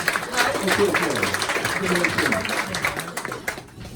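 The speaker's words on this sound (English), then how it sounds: "give them a huge round of applause" Guests at an auto company Christmas party give a round of applause. The clapping is fairly close and sustained for several seconds, mixed with someone talking over it, and it thins out toward the end.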